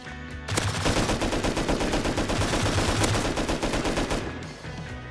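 Loud, rapid automatic gunfire from the video game Rust, a dense burst of shots lasting several seconds after a single opening shot, close and without talk.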